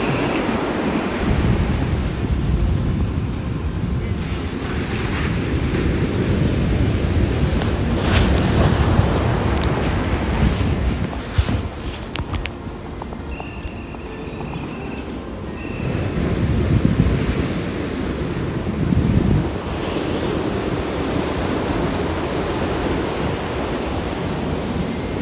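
Sea waves break at Kollam beach at dusk in a loud, continuous surge, with heavier crashes swelling now and then and wind buffeting the microphone.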